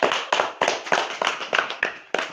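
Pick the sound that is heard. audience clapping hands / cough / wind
audience clapping hands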